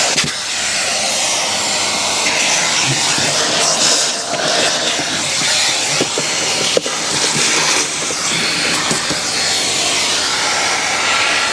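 A vacuum runs steadily over the interior of a crash-damaged Corvette C5 coupe, a loud continuous hiss-roar with scraping shifts as the nozzle moves across surfaces and parts, heard close and alone without talk.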